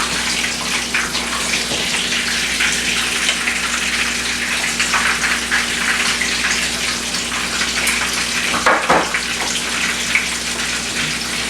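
Chicken parmesan sizzles steadily in a frying pan, a dense, continuous hiss heard close up with a brief dip near the end and no talking.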